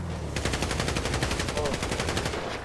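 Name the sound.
gunfire shooting at a vehicle in a video game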